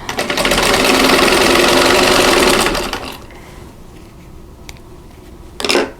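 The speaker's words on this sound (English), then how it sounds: "So just going to sew on one side." A sewing machine runs a steady, close whirring stitch along a quilt block seam for about three seconds, then stops, leaving quiet room noise and a brief rustle at the end.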